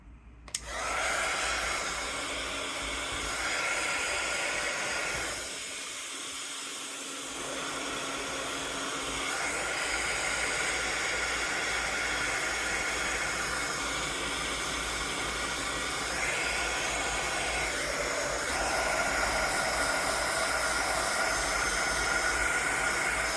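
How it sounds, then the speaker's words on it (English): A heat tool blasts hot air onto paint in a continuous loud roaring whoosh that holds for over twenty seconds with slight shifts as it moves, no talking. "let's give it a little blast with the heat tool"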